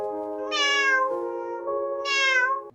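Two cats about to be bathed give two long, clear, drawn-out meows close by, one after the other with a brief overlap, and no speech over them.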